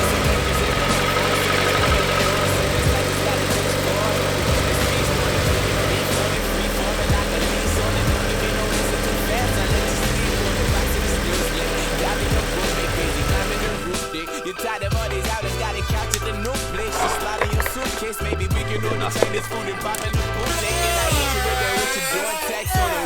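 Turbocharged Mazda Miata engine with a newly fitted oil cooler, running at a steady, loud idle for a long stretch before the tone shifts into rougher, uneven engine noise, with no talking.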